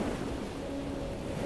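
Ocean waves washing onto a shore, a steady broad surf roar with some wind noise, moderately distant and continuous, no voices.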